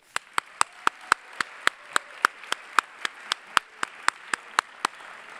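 Audience at an amateur film competition claps for the event coordinator in slow unison, about twenty sharp, evenly spaced claps in a steady rhythm over quiet room tone.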